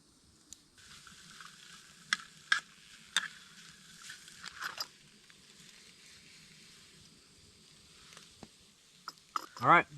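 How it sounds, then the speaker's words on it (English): Bacon and eggs frying in a pan at a wilderness campsite in the Boundary Waters, giving a faint steady sizzle with scattered clicks and scrapes of a utensil, a louder clatter near the end. "then I'm gonna cook my bacon and eggs"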